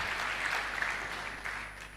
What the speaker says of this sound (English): Please give a good applause for them.